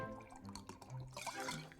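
A drink being poured in the video game Card Shark, a brief liquid trickle and drip lasting under two seconds, heard alone at moderate level.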